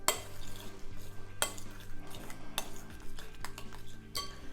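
Chopped mint, basil and curly leaf parsley being stirred into panisse mix in a bowl, a steady scraping, clinking stir with a few sharper utensil knocks against the dish, close and alone.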